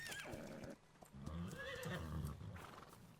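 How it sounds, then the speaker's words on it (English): A horse in the video game Ark neighs and whinnies loudly, with clip-clopping hooves around the calls and no talk over them. "I waited out the rain, and now we have a horse."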